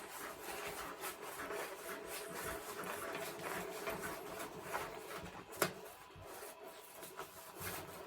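A fabric tool roll is rolled up, giving quiet, continuous rubbing and rustling of cloth, with one brief sharper knock partway through.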